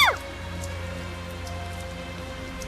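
Steady light rainfall patters evenly in a video game scene, a soft continuous hiss with occasional drops, opening with a brief chiming tone and no talking.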